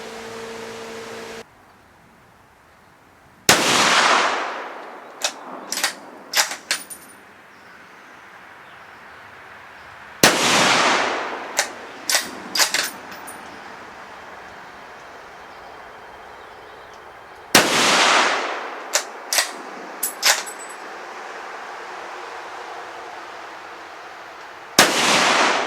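Rifle shots at a rustic log cabin deer hunting camp: three loud cracks spaced several seconds apart, each followed by a long rolling echo and a few faint clicks of the action.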